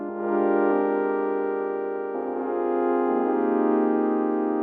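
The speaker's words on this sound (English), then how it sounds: "So it's a simple sine wave." A simple sine wave synthesizer tone played in Ableton 9, sustained and steady for several seconds, with slight shifts in pitch partway through and nothing else heard.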